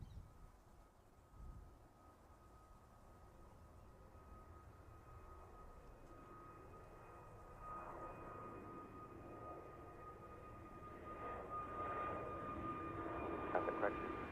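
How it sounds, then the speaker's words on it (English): A British Airways Airbus A321neo at Heathrow Airport, a distant jet engine roar that slowly builds in loudness over the clip, steady and broadband with no talking. "This is British Airways 426 heading off to Naples."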